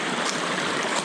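A river in Lyulin Mountain rushes steadily as a dense, continuous broadband wash of flowing water, close and fairly loud, with no voices over it.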